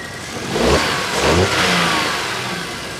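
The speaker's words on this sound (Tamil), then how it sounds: "ஸ்டார்ட் ஆகிடுச்சு இன்ஜினோட நாய்ஸே லைவாக" A car engine revs up in a couple of surging swells, rising and easing back, loud and close, with no talking.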